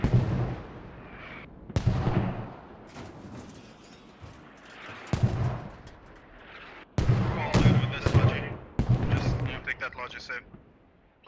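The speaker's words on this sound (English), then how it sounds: "As here come the mortars." Mortar rounds land in a Squad battle, with repeated sharp blasts and booming impacts recurring every second or two amid scattered gunfire, some hits close and loud, others more distant, while voices talk underneath.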